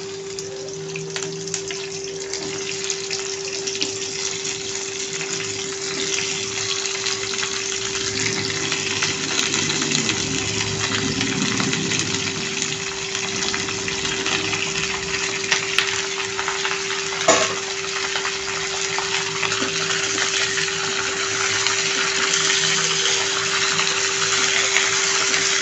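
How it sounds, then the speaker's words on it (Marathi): Okra (bhindi) frying in oil in a pan over a high flame, a continuous bright sizzle and crackle that stays loud and close throughout, with a steady hum underneath and no talking. "आता आपण ह्याच्यात भेंडी टाकून घ्यायची आहे। भेंडी थोडीशी तेलावर फ्राय करायची आहे।"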